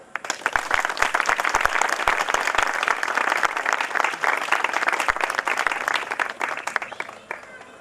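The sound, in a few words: audience applause in church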